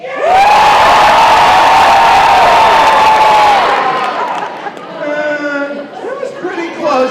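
An audience at a 6th-8th grade school band fall concert cheers and whoops loudly for several seconds, then the roar fades and a voice speaks over lingering crowd noise.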